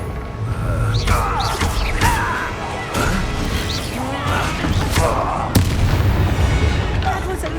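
Bombarda blasting spell cast in Hogwarts Legacy, a series of heavy booming impacts and crashes spread across the clip, with a sharp blast near the end and voices speaking over the din.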